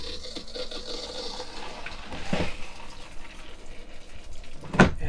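Water rushes steadily through the opened toilet valve of a 2021 R-Pod 193 RV during winterizing, a faint continuous hiss with a few knocks and a sharp click near the end.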